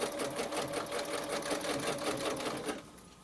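A sewing machine stitches one side of a heart design on a pillow, running in a fast, even chatter of needle strokes for about three seconds before stopping abruptly.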